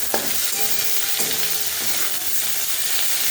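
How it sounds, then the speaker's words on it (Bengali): Chopped tomato hisses and sizzles in hot oil in a frying pan while being stirred, a loud, steady crackling fry with a few sharp clinks of the spatula against the pan. "দেখো এবার আমি এর মধ্যে কুচিয়ে রাখা টমেটোটা দিয়ে দিলাম।"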